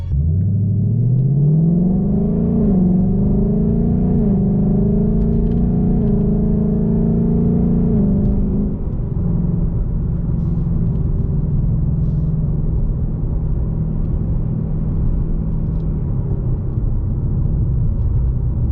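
Engine drone inside a 2020 Ford Mustang GT Premium PP1, rising in pitch as it revs up, then settling into a steady cruising hum with road rumble.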